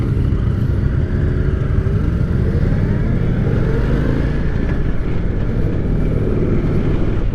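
A 2023 Indian Sport Chief motorcycle accelerates out of a corner, a steady loud engine drone under heavy wind rush, with no voices.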